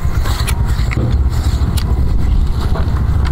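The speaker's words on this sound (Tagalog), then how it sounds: "Yung problema dito yung hangin talaga malakas dahil nga po open" Strong wind gusting across an open outdoor spot, a loud continuous rumble buffeting the microphone with occasional scraping clicks.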